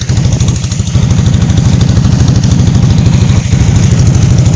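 A hired fishing trawler's engine runs on the Padma river, a loud, close, steady diesel-like chugging with a fast regular thump, interrupted only by a brief dip near the start.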